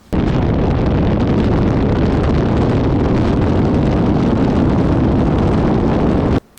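Indian motorcycle fitted with a Stage 3 116 big bore kit, rolling on hard in sixth gear from 70 mph, produces a loud, steady engine roar heavily buffeted by wind noise for several seconds before cutting off abruptly.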